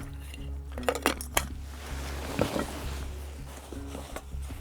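Lightweight camping fork, spoon and knife clinking and rattling against each other in a few bright, close metallic chinks and taps, over a low steady background hum, no speech.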